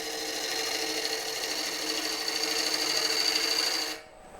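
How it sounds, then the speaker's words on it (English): A bowl gouge cuts on a wood lathe turning at higher speed, giving a steady close whirring scrape that stops abruptly near the end. "I can move the bull gouge quicker"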